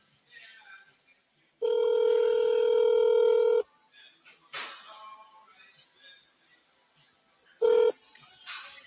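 Ringback tone of an outgoing phone call, a long steady electronic ring of about two seconds, then a second short burst, with faint talking and background noise between the rings.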